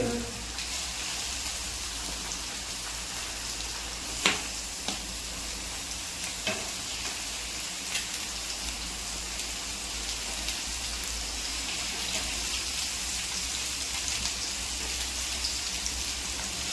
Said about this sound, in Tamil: ஒரு பக்கம் ஃபிஷ் ஃப்ரை ஒரு பக்கம் எறா ஃப்ரை